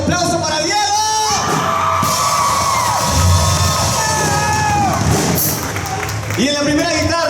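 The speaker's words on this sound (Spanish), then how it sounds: "en la batería, un aplauso para Diego" A concert crowd at a university show cheers, whoops and yells for the drummer Diego, loud and close, with an amplified voice speaking over the noise and shouts rising throughout.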